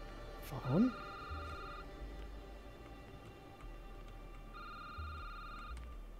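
A telephone rings with steady electronic tones in a security booth horror video game, two ring bursts spaced apart under a low background hum, alongside a brief voice-like swoop near the start.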